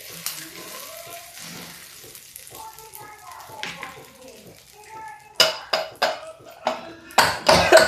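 Hot tadka poured into South Indian coconut chutney sets off loud, spitting sizzle bursts in the last few seconds, following a stretch of quieter kitchen clatter and talking.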